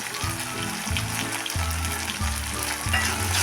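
Masala, cumin powder, coriander powder, garam masala and salt sizzle steadily in hot oil for an egg curry, a dense continuous frying hiss close up, with periodic low stirring scrapes in the pan.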